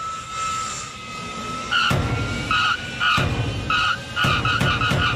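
A cartoon airplane flies overhead, a steady engine drone broken by a run of rhythmic, swelling bursts that grow louder toward the end, with no talking.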